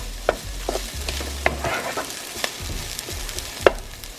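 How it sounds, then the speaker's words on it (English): Onions browning in a frying pan give a soft, steady sizzle close by, broken by several sharp clinks and scrapes of stirring, with no one talking. "So we have our onions browning."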